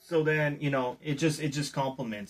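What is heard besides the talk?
No everyday noise stands out behind the speech.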